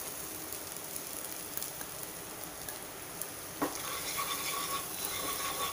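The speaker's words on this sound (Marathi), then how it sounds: "छान परतवून घ्यायचे सुके मसाले अर्धा मिनिट" Dry spices, turmeric, asafoetida and red chilli powder, sauté in a pan for a fresh cashew curry, giving a soft, steady sizzle with one brief stirring knock partway through.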